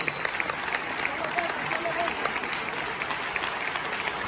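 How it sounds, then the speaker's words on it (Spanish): Audience applauding at the close of a live tribute concert, a steady, dense wash of clapping that holds evenly throughout without any voices over it. "ese aplauso se está quedando muy feo"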